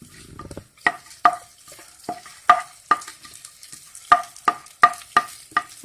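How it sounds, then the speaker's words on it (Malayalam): A spatula stirs fried coconut into jackfruit erissery in a pan, sharp metallic scrapes and clinks repeating every half second or so over a faint sizzle, close and without talk. "വറുത്ത തേങ്ങ നമ്മുടെ എരിശ്ശേരിയിലേക്ക് ചേർക്കാം."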